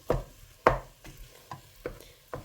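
Beef keema mixture being stirred in a pot, a series of six spaced scraping, clattering strokes of the spoon against the pot, close and distinct with quiet pauses between them.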